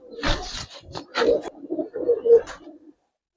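Army-type pigeons with cumin-coloured necks coo close by in several soft, throaty, rolling calls that stop after about three seconds.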